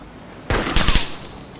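Gunfire from the video game Arma 2 DayZ Mod: a sudden loud burst of several rapid shots cracks out, then trails off into a fading echo.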